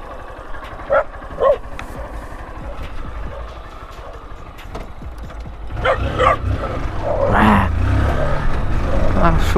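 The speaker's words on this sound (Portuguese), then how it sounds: "Cachorrinho." A small dog barks a few times in short yips, near and fairly loud, over a low engine rumble that swells toward the end.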